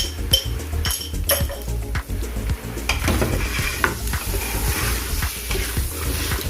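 Onions with ginger-garlic paste fry in a pan and are stirred repeatedly, giving a constant sizzle broken by scraping strokes and metallic clinks from the utensil, close up and alone.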